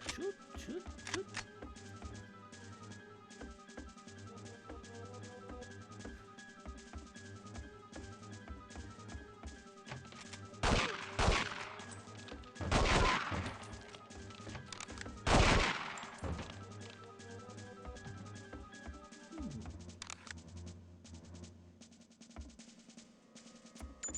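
Video game gunfire: a steady crackle of shots runs through, with several louder, heavier bursts in the middle, all faint and set under a low musical background.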